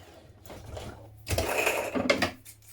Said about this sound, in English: We're going to stitch down this side with a stretch or zigzag stitch again.